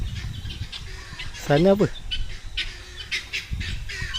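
A turkey at a resort mini farm in Melaka gives a short burst of loud, harsh squawking, close by, amid background chatter and a brief spoken question.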